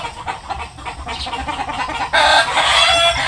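A hen from a crossbred flock clucks in short repeated calls, fairly close, with a louder burst of clucking and crowing-like noise toward the end.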